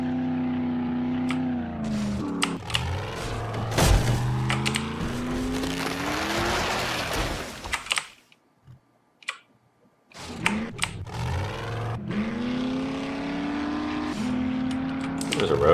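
A Jeep engine in the 7 Days to Die video game drones and revs steadily, with a few sharp clunks and impacts, a brief near-silent gap midway, then the engine roaring back.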